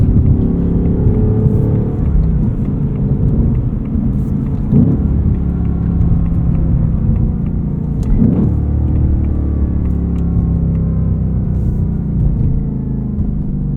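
A 2024 Ford Mustang Dark Horse with a Tremec six-speed manual, in track mode over bumpy pavement, fills the cabin with a loud, continuous low engine and road rumble broken by occasional thumps from the bumps.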